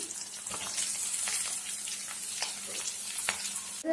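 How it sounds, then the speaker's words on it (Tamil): Garlic and ginger sizzle steadily in hot oil in a pan as the base for a paneer gravy, a continuous close frying crackle with occasional stirring scrapes and no talking. "பூண்டு அதெல்லாம் போட்டு இப்போ இது கொஞ்சம் வதங்கினதுக்கப்புறம் நம்ம வெங்காயம் போடலாம்"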